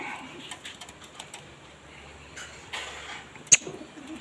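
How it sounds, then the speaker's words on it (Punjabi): Soft low pigeon coos drift in and out over faint background noise, with a sharp click or knock partway through. "ਆਉਂਦੀਆਂ ਨੇ ਕਬੂਤਰੀਆਂ ਇਹਨਾਂ ਦੇ ਦੋਏ ਕਬੂਤਰ ਬਾਹਰ ਉੱਡਦੇ ਨੇ"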